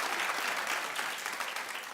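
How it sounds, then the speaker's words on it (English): Studio audience at a daytime talk show bursts into dense, loud, sustained applause, filling the whole short stretch with no voices over it. "But no, you can clap, he was denied bail."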